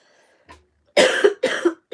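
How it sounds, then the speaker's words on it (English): A few harsh, chesty coughs in quick succession after a brief faint sound, loud and close. "let's cough it up"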